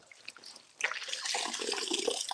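Water sloshes and splashes in a bathtub, starting soft and becoming louder and more continuous as someone moves in the tub, with close, busy liquid noise and no talking.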